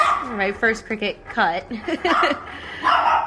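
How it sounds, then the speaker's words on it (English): A dog barks several times in a home craft setting, short sharp barks mixed with yips, heard close and clear while someone talks over them. "Sorry about the dog."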